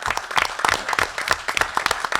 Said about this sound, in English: Round of applause for this fine young man.